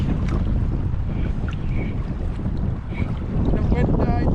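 Steady wind buffeting a microphone on a boat out on open water on a windy fishing day, a continuous loud rushing roar with faint tonal squeaks over it.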